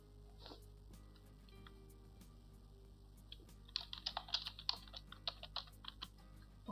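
Computer keyboard typing while entering a password and captcha text on an online rent agreement registration form, heard as a quiet burst of rapid, irregular key clicks in the second half over a steady low hum.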